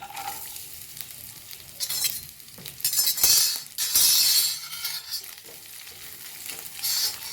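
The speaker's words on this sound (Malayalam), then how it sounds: "ഇതിലേക്ക് ആദ്യം ഞാനൊന്ന് നാളികേരക്കൊത്തൊന്ന് വറുത്തെടുക്കുന്നുണ്ട്" Chopped coconut pieces frying in a pan for a banana-stem and chickpea thoran, crackling sizzle rising in loud bursts as the pieces are stirred and tossed, with clinking scrapes against the pan, close and without talk.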